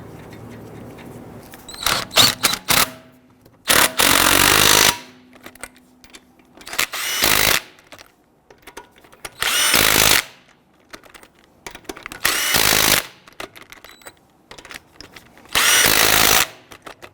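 Power tool run in six short bursts, snugging down lug nuts on a 2011-2019 Ford Explorer during a front CV axle replacement, with quiet pauses between each nut.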